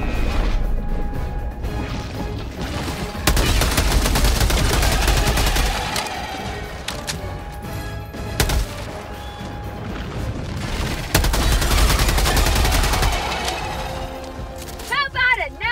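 Heavy gunfire in the video game Helldivers II roars almost without pause, loud and dense bursts mixed with crashing impacts and rattling mechanisms throughout.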